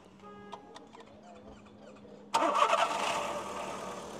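A Volkswagen Fox engine cranks and catches partway through, then runs with a steady, loud idle after a quiet stretch of faint clicks and ticks, at a used car fair.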